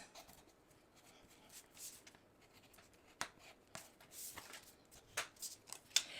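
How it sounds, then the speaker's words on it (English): A bone folder scrapes and presses along folded patterned-paper tabs during cardmaking, giving soft, faint rubbing and scratching strokes in short, irregular bursts with a few sharper taps. "We're going to bring in our bone folder and we're just going to fold those little tabs over."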